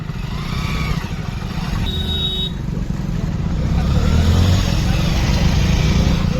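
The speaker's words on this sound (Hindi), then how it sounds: "ट्रैक्टर भी आ गया।" A tractor engine rumbles loudly close by, rising as it passes on a crowded single-lane road, with traffic noise and a brief horn-like tone.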